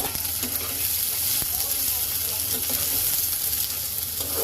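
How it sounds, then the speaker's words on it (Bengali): Sliced onions frying in hot oil in a wok, a close and steady sizzle with a faint crackle that holds evenly from start to finish. "এখন এর মধ্যে দিয়ে দিলাম পেঁয়াজটাকে আমি একটু সুন্দর করে ভেজে নেব"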